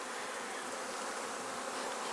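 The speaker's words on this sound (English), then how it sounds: "I'll puff the bees just to calm them" Honey bees in an opened hive, being worked during a queen release, give off a dense, even buzz that stays steady and close throughout, with no talking.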